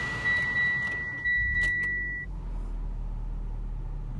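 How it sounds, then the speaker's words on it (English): A 2017 Mitsubishi Lancer as the key goes in and the power comes on: a steady electronic chime tone for about two seconds over a low idle rumble, then an engine drone continues alone. "that is going to be how you're going to start the car"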